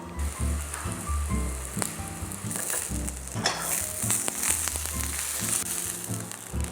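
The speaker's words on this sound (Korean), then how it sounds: "팬에 열이 오르기 시작하면 가지를 노릇노릇하게 앞뒤로 구워주시면 됩니다." Eggplant slices pan-frying in a generous layer of hot oil, a steady bright sizzle running throughout with occasional clinks and stirring knocks, close and fairly loud.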